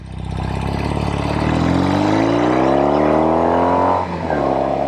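A 1973 Norton 850 Commando Roadster motorcycle engine revs up hard, pitch climbing steadily into a loud high whine before briefly dropping off, close and alone with no talk.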